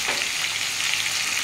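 Spices sizzle steadily in hot oil in a frying pan as a spoonful of cumin powder goes in while prawns, potato and ridge gourd cook for a thin broth; a continuous, close, bright hiss with no talking.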